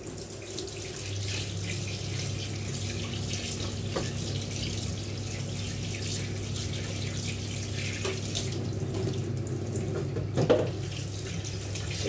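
A kitchen tap runs steadily as a dish used for mixing ketchup and barbecue sauce is rinsed, a continuous close water rush with a brief clatter near the end and no talking.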